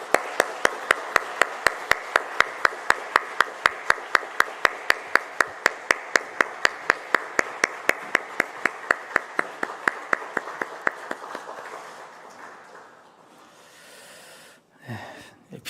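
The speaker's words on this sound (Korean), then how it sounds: "우리 크게 박수하겠습니다" A church congregation at a family dawn prayer service claps in a steady, even rhythm, loud and close for about eleven seconds, then the clapping stops and only a brief murmur remains.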